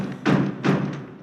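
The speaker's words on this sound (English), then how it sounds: "he bangs on the door." Two heavy, booming thuds of the Beast banging on a door in the animated Disney film, close and loud, the second following about a third of a second after the first.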